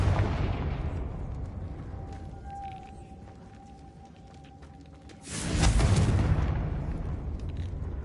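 Confringo blasting spell in Hogwarts Legacy: a brief sustained magical tone, then a sudden loud explosive burst with a broad rumbling boom that lingers and fades, no talking.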